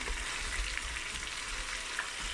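Onion and garlic sautéing in a Cookeo multicooker for couscous, a steady hiss of frying with faint stirring touches, heard alone without talk.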